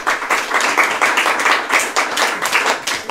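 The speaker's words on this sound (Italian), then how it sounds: "potete fare un applauso se volete" An audience at a talk gives close, steady, fairly loud applause, with dense clapping rising and falling in gentle waves and no voices on top.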